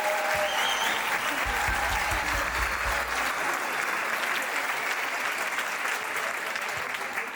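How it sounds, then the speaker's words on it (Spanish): Steady, dense audience applause fills the whole stretch at an even loudness, many hands clapping together in a hall for a singing event, with crowd noise underneath. "Recibimos con un fuerte aplauso a Miguel Fernández"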